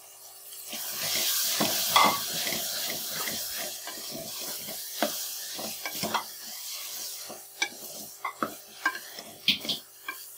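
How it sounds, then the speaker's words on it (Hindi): Chicken keema and green peas fry together in a pan for a dhaba-style dish, a soft background sizzle broken by repeated scraping stirs and clinks of the spoon against the pan, growing more percussive toward the end. "अब मज़ीद 6 से 7 मिनट मटर और कीमा इकट्ठा फ्राई करेंगे।"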